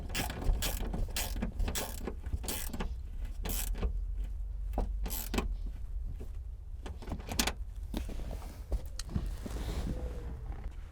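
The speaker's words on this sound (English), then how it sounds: "once we tighten it, we can use our size 10 gear wrench" A size 10 gear wrench ratchets quickly to tighten a bolt while rear seats go back into a Honda Civic. The clicking comes in bursts and short runs, close and fairly steady, with mechanical rattles mixed in and no one talking.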